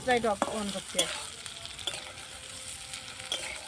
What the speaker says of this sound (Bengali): আলু এবং পনিরটা ভাজার সময় এর মধ্যে সুন্দর লবণ ঢুকে যাবে